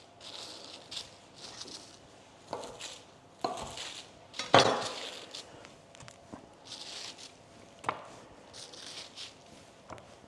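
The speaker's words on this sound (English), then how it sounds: "I'm just going to roll these up and cut them into the size that I want to cut them" A knife slices through rolled sausage roll pastry on a board, giving a string of soft, irregular cuts and taps with occasional clinks of utensils, close by, with no talk.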